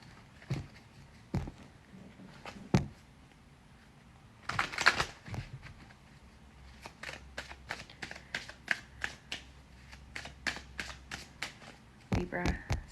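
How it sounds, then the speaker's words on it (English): Tarot cards are shuffled in quick riffling bursts, a loud flurry near the middle and a run of soft rapid taps afterward, close and quiet. "I'm going to shuffle these again."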